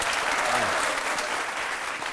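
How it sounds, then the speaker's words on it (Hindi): Studio audience at an Indian courtroom-style TV talk show bursts into dense, steady applause, a close wall of many hands clapping that holds evenly for about two seconds with no voices on top. "ताली बजाइए इस पर, बहुत बढ़िया।"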